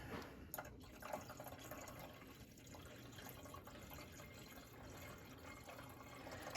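Apple cider vinegar poured into the fuel tank of a 1964 Suzuki K10 motorcycle: a faint, steady liquid trickle and drip runs throughout, close by and alone.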